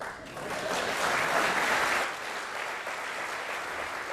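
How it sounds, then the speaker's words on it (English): An audience at a global policy forum claps in sustained applause, swelling to a peak and then tapering slightly over a few seconds, without speech. "Give me a round of applause."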